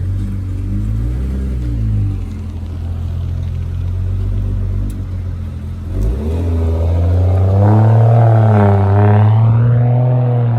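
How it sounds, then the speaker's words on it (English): A BMW V8 engine idling with a deep rumble, then revving up louder with rising and falling pitch, close by. "that beamer sound like a V8 or something."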